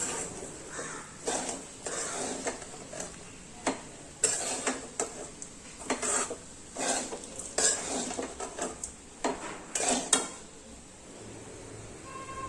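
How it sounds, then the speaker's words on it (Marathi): Sabudana khichdi with cooked potato and peanut powder is stirred and sautéed in a pan, with repeated close scraping and spatula knocks in an uneven rhythm over a soft steady sizzle, no voices. "बटाटा पण शिजला आहे त्यामध्ये साबुदाणा आणि कूट घालून परतून घेते खिचडी"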